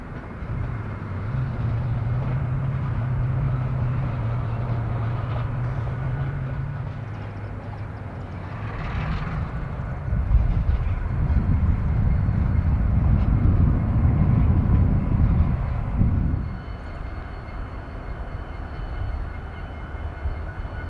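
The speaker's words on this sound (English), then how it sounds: "the engineer will allow the locomotive to warm up and build pressure before getting permission to Y their power" Canadian National diesel locomotives idling and warming up in a rail yard near Peoria on a hot afternoon, a loud steady engine drone with a low throb that swells into a heavier rumble midway, then settles back.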